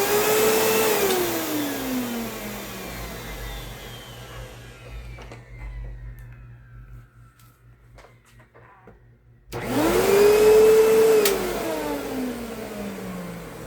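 A Kenmore Progressive direct-drive vacuum cleaner whines down with a falling pitch, rattles quietly, then surges back up to a loud whirring run, an off-balance wobble underneath.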